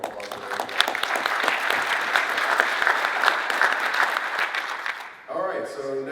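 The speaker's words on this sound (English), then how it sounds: "Big round of applause for them." A crowd at a board meeting claps and cheers loudly for several seconds, the applause fading near the end as a voice begins speaking.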